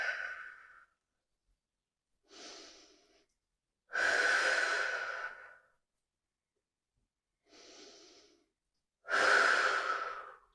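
Deep exercise breaths taken while holding a lifted glute pose: three long, strong exhales alternate with softer inhales, close and alone, each lasting about a second or more with quiet pauses between them.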